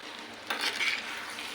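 Cluster bean and chana dal curry with ginger garlic paste being stirred in a pan, a soft scraping stir over a steady low sizzle of frying, close and fairly quiet with no talk.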